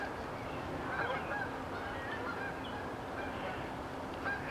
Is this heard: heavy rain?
no